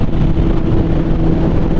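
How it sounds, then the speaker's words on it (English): Constant roaring wind buffeting the microphone over a low engine hum, loud and unbroken like riding at highway speed on a 2006 Honda CBR1000RR Repsol motorcycle cruising in the left lane. "Kind of windy, so that's why I'm not really pushing it too much"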